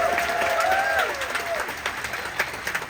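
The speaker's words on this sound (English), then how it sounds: "can we give a round of applause to all those that auditioned today?" Cruise ship audience applauding at a game show, dense clapping sustained throughout with faint crowd murmur and a brief whistle-like tone early on.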